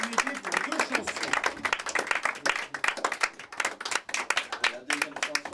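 Audience clapping at a French chanson concert, a steady burst of dense hand claps with some louder individual claps standing out, with a voice speaking over part of it.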